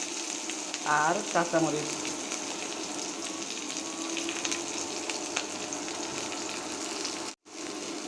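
Onion and dried red chilies sizzling in mustard oil in a home kitchen pan, a steady bright crackling fry with a brief stir and a short clatter near the start, while someone speaks briefly.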